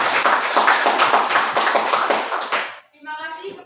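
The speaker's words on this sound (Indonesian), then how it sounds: "Oke, tepuk tangan." Classroom applause, a group clapping briskly for about two and a half seconds before stopping abruptly, followed by a short stretch of speech.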